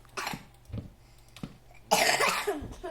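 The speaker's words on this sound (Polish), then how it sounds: "jak kaszle" Several coughs in a Minecraft game, close and fairly loud, with short gaps between them and a longer, harsher burst of coughing near the end.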